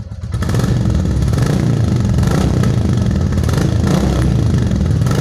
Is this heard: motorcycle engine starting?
yes